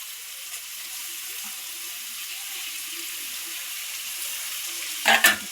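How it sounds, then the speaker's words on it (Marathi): Onions for egg biryani fry in a pan with a faint, even hiss that holds steady, then a brief louder clatter near the end. "चांगला कांदा भाजू द्या बरं का"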